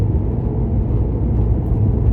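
Steady low road rumble and tyre whir inside a moving 2022 Chevy Bolt electric car, continuous and fairly loud with no engine note and no talking.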